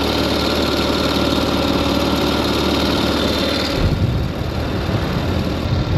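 A Ural motorcycle engine running steadily on a road in Timor-Leste, a loud, constant low rumble that shifts slightly in tone near the end.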